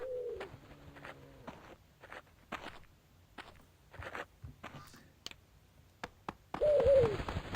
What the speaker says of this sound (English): Yeah, all those birds.